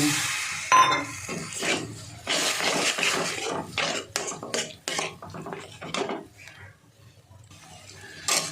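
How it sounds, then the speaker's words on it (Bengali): Capsicum kabiraji masala being stirred and cooked down in a pan with a little water, a spoon scraping and clinking against the metal in irregular bursts, close and fairly loud, with no one talking. "আবারও একটু মিশিয়ে নেব মশলার সঙ্গে সামান্য একটু জল দিয়ে একটু কষিয়ে নেব"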